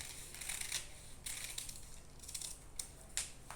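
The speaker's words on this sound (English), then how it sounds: "You take your scissors, cut it out like this." Scissors cutting through a paper corset pattern, a string of short, crisp snipping bursts spaced irregularly, close and fairly quiet, with no talking.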